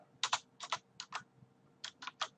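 Quick keystrokes on a computer keyboard in small irregular clusters of two or three taps, crisp and close in an otherwise quiet room.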